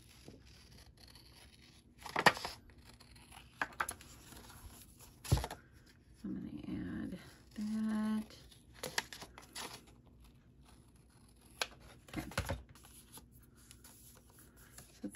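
Scissors snip through a paper cut-apart for a mini album, giving scattered sharp clicks and crisp cuts among quiet rustling and soft handling sounds.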